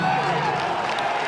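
A crowd at the Shine 2018 Super Smash Bros. Melee tournament cheers and applauds in a sustained roar lasting about a second, with a commentator talking over it.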